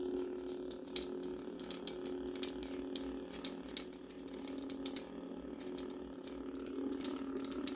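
Threaded metal pommel of a 7Chambers Aniflex V1 lightsaber hilt being unscrewed, giving a quiet, close run of rapid ratcheting clicks and grinding thread noise with a few sharper ticks.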